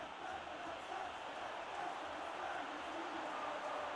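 Steady, dense stadium crowd roar from a simulated football match, Manchester City versus Sevilla in the UEFA Super Cup final in PES/FIFA 2024, holding level and loud as a continuous wash for the whole stretch.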